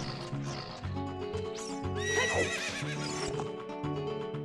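A horse in The Legend of Zelda: Ocarina of Time gives a bright, rising whinny midway through, with clip-clopping hooves and steady game music underneath.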